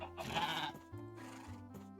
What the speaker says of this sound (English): I actually forgot that you can just find wild llamas in the world.